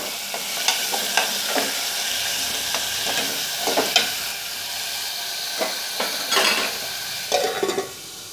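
Potato pieces with carrot and curry leaves frying in a pan for an aloo carrot fry, a steady sizzle under repeated scrapes and clanks of a spoon stirring, close and moderately loud, with no talk.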